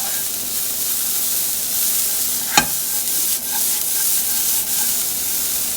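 Garlic sizzling in a pan for a lasagne sauce, a continuous loud hiss close up with one sharp tap of a utensil partway through.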